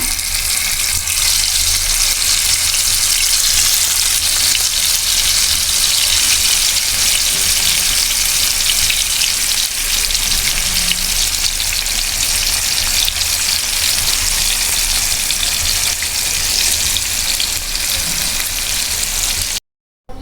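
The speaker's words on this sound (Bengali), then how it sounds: "মাছগুলো ভেজে নিচ্ছি" Rohu fish pieces frying in hot oil, a loud, dense, continuous crackling sizzle heard up close and alone, cutting off abruptly at the end.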